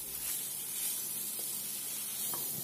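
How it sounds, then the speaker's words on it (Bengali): Fried cauliflower tipped into a pan of cooked-down spiced masala with potatoes and stirred, giving a soft continuous sizzle with a few faint scraping stirs, fairly quiet and without talk. "এবার ভেজে রাখা ফুলকপিটা আমি দিয়ে দেবো। সবগুলো ভালোভাবে নাড়িয়ে নিতে হবে।"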